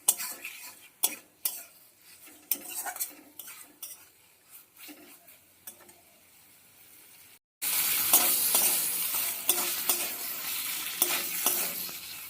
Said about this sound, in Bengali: মশলার সঙ্গে পটলের বীজটাকে ভালো করে কষিয়ে নেবো গ্যাসের ফ্লেমটাকে মিডিয়ামে রেখে দিতে হবে